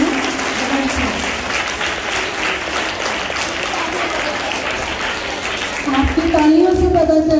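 Audience applause after a recited speech at a public gathering, sustained dense clapping from a large crowd, loud and continuous, with a voice beginning to speak over it at the end.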